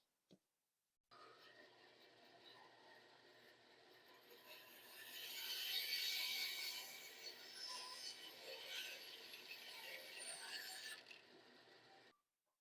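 A wooden deck covering board being cut during a repair, giving a steady rasping, grinding cut that runs for about eleven seconds, swelling louder midway and staying close and continuous with no talking.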